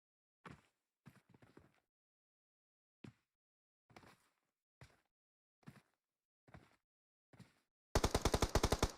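Gunshots in the battle royale game PUBG Mobile: a string of separate sharp shots spaced about a second apart, then a loud rapid automatic burst to close.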